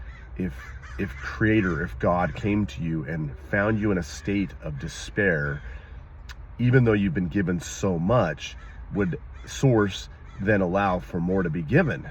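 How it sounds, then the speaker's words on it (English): Crows caw repeatedly in the background, steady and clearly audible beneath a person's continuous speech throughout. "If you can hear the crows in the background"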